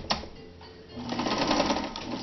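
A Kenmore 158.13033 sewing machine stitches nearby, starting with a few faint clicks before the motor and needle pick up into a steady, busy whirring run, with no voices.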